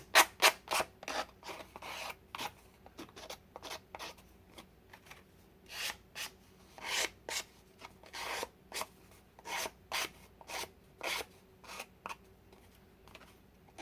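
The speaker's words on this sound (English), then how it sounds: "go around the edges just to get rid of any excess bits that I may not have cut away cleanly" Sandpaper's rough side rubbed around the edges of small cut paper pieces for tiny junk-journal notebooks, a steady series of short, crisp rasping strokes in a regular rhythm, close and clear with no talking.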